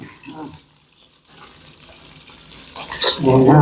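Brinjal slices frying in hot oil give a crackling sizzle that swells louder toward the end, with turning and stirring noises, close by and mixed with a nearby voice.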